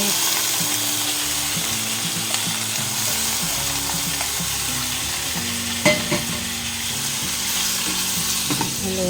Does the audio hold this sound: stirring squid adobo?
yes